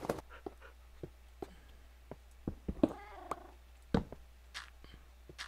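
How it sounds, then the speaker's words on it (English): A house cat meows a few times at close range amid scattered clicks and soft taps, with a short purring or trilling call in the middle and quiet gaps between sounds. "Move, damn cat."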